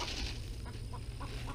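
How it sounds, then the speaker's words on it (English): A chicken clucking in a Houston garden where blueberries are being planted, with a few short, soft clucks over low background rumble. "The clucking is getting me."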